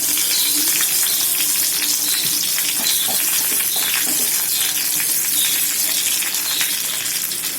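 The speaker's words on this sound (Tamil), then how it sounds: "எண்ணெய் சூடாயிடுச்சு. கடுகு சிறிதளவு கருவேப்பிலை போட்டுக்கணும்." Mustard seeds and curry leaves sizzle and crackle in hot oil while tempering millet (kambu) chutney, a steady, loud frying hiss with scattered pops throughout and no voices.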